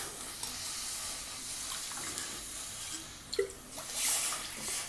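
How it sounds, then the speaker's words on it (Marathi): Water from a glass pours into a pan heating on a gas stove, a brief splashing rush near the end over a faint steady background hiss. "2 पेले पाणी घालणार आहोत"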